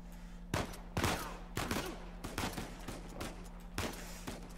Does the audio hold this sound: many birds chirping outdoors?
no